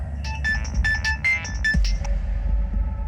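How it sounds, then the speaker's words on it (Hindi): A phone ringing in a domestic scene, its repeated electronic tone pulsing in short bursts over a low background hum, fairly close and with no talk over it. "किसका फोन है?"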